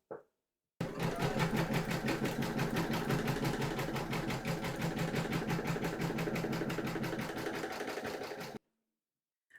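A home embroidery machine stitches the first round placement outline in black thread, a fast, even, rhythmic mechanical chatter running steadily for about eight seconds before stopping, close and alone.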